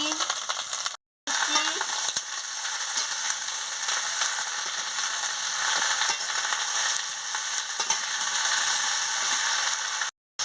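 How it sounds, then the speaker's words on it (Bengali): Mixed vegetables frying with panch phoron in a pan give a loud, continuous sizzle, broken by scraping stirring strokes and two brief dropouts, heard close up with no talk. "আমি আনাজটা দিয়ে দিচ্ছি, দিয়ে ভালো করে নাড়িয়ে দিচ্ছি।"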